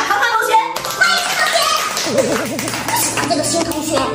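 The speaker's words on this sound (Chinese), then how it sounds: "这么多人对着我鼓掌" Classroom of second-grade pupils clapping together to welcome a new classmate, a dense patter of small hands under children's voices and a tonal melody that enters midway.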